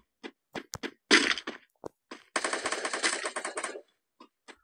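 Rapid gunfire in the video game PUBG, with sharp isolated shots, a short burst, then a longer sustained automatic volley, loud and close, followed by a few scattered single shots.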